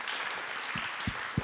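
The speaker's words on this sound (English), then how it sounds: "Let's clap for Lawrence." Brief burst of audience clapping for a panelist at an investment forum in Perth, Australia, a dense patter of hands running throughout with a few sharper individual claps near the end.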